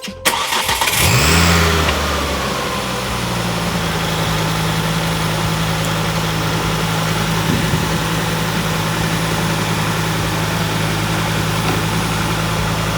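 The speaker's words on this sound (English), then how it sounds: "I'm just going to quickly start the car, watch it all go around" A Ford Focus ST225 Mk2 engine cranks and catches with a brief rev, then settles into a steady, close idle that drones on without talk.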